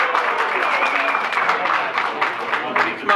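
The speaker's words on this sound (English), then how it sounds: "How about a little applause for those folks" A crowd in a courthouse hallway claps in steady applause, dense and close throughout.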